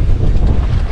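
Wind buffeting a fishing boat on a windy day in Tampa Bay, a loud constant low roar of gusts hitting the microphone with no talking.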